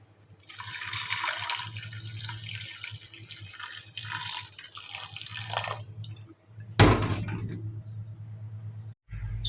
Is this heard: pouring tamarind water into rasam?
yes